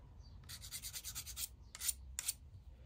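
Rhythmic rasping strokes of a small flat sharpening tool drawn along a secateurs blade to remove the burr, a rapid run of about eight close, crisp rubs followed by two slower separate strokes.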